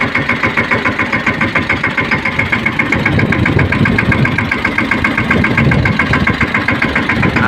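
Mahindra Yuvraj 215 tractor engine running close up, a loud, steady pulsing chug with rapid regular beats and a metallic clatter, with no talk over it.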